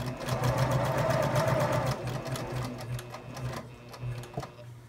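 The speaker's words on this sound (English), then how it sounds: "I'm going to sew along the edge, moving the fabric as I sew" A sewing machine stitches along the edge of fabric for a zipper pouch, a rapid buzzing run that drops away near the end into a few clicks and handling noises.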